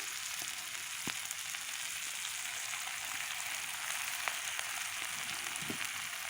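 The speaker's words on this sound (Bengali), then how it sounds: "চিংড়ি পেস্টটা সুন্দর করে কষিয়ে ভাজা ভাজা করে" Shrimp paste fries in a pan in a village kitchen, a soft, even sizzle with a few faint clicks, quiet and continuous with no talk.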